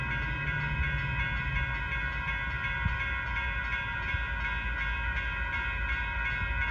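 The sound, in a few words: northbound Union Pacific freight train passing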